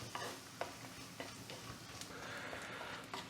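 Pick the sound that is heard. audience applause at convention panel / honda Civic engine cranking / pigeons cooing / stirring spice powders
stirring spice powders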